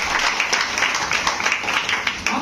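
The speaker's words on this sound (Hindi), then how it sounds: "बहुत बढ़िया, जोरदार ताली।" Steady audience applause at a business seminar, many hands clapping together in a dense, continuous wash from start to finish, fairly close and even in loudness.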